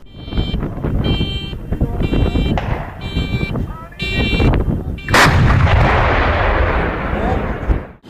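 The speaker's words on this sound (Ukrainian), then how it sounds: "203-мм гармата піону за один постріл відправляє понад центнер смерті на відстань у майже 50 кілометрів" A 203 mm Pion self-propelled artillery gun fires once with a loud sharp blast and rolling rumble, after stretches of pulsing engine or siren-like noise and wind.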